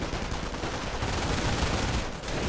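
Machine gun fire rattles in a World War II strategy game amid a continuous dense wash of battle noise, with fast bursts blending into steady gunfire at moderate volume and no speech over it.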